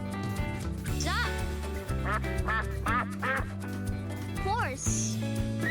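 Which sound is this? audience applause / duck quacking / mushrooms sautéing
duck quacking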